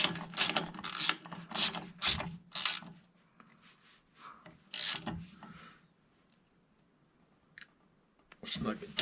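An open-end wrench snugs a bolt during rear brake and wheel bearing work on a 1974 MG Midget, giving a series of quiet rasping, ratcheting clicks in short bursts, with a louder scrape near the end.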